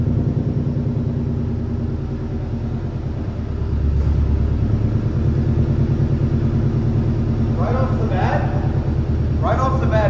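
An upgraded car engine runs close by, a steady low rumble that swells louder after a few seconds as it revs slightly, with a person talking over it near the end.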